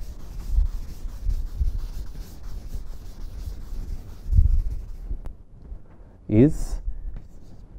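Chalk or marker scrapes across a board while an equation for a conveyor-belt variable-mass problem is written, with soft rhythmic rubbing strokes under a lecturer's voice and a brief squeak near the end.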